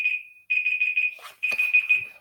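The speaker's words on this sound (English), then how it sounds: "there's my alarm for today." A loud electronic alarm beeps in quick pulsing bursts, pausing briefly between groups, close and clear with no one talking over it.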